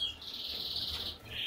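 A yellow mosaic red-eyed canary in a breeding cage gives a steady, high thin chirping trill that runs nearly unbroken, with a brief dip before resuming, over faint low background hum.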